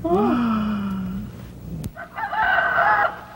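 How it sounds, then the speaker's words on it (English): A big, tough rooster in a farmyard, from a 1969 Sesame Street episode, gives one loud, drawn-out crow up close. A brief pause follows, then other bright sounds pick up. "This is one big tough bird. He's a rooster"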